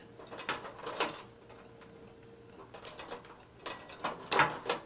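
A broken socket is pried out of an F40T12 two-lamp wraparound fluorescent fixture, producing quiet plastic clicks, creaks and scraping handling noises in irregular bursts, close and fairly faint.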